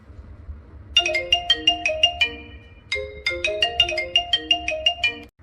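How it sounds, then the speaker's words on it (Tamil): A phone ringtone plays two bursts of a bright, repeating melodic tone with a pause between them. It is clear and fairly close against a quiet background. "ஒரு 1/4 மணி நேரமா ஃபோன் அடிச்சுக்கிட்டே இருக்கு"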